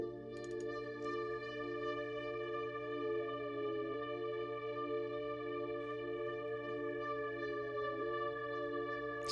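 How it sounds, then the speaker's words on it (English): Layered electronic synth pad and riser from a remix, a dense sustained chord with the texture gliding down and back up in pitch at intervals, steady and alone. "And what I did is I combined it with this riser sound,"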